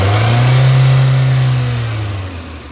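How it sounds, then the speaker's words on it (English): A car engine revs up once in a lab setting while its camshaft position sensor is monitored, a loud steady low drone that swells and then slowly falls away, with no talk over it. "And then when Gabe gives it a rev"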